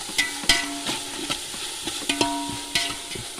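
Onion sautéing in a pan for a chicken roast crackles softly while a spatula knocks and scrapes against the pan in irregular sharp taps, close up and with no voices.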